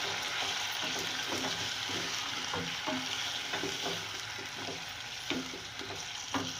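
Meat sizzles in hot oil in a pot for chana dal gosht, with steady loud frying and repeated scraping of a spoon as it is stirred, and no voices.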